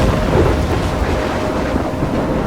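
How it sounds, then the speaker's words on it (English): Thunderstorm with heavy rain in the video game Life is Strange, a dense, steady roar of downpour with low rumbling thunder rolling underneath, loud and continuous throughout with no voices. "I'm trapped in a storm?"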